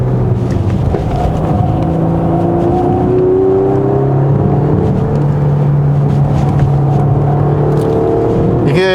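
A 2020 Porsche Panamera 4 e-Hybrid accelerating on a winding road in sport response mode, heard from inside as a loud engine drone whose pitch climbs and falls with throttle changes, with a brief clatter at the end.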